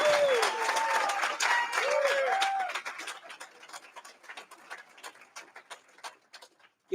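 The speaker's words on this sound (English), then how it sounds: "Can we give Mayor Goodman another big, gigantic round of applause?" Audience applause at a prison-reentry graduation ceremony, a burst of clapping that starts loud and thins out into scattered claps, with a voice briefly audible at the start.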